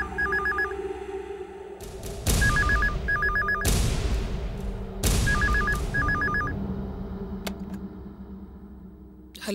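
A telephone rings in a Telugu TV serial scene, loud and close, with repeated bursts of electronic bell trills separated by short pauses, under heavy dramatic music hits.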